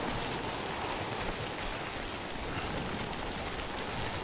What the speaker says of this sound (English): And of course it's gonna rain the whole fucking way down here.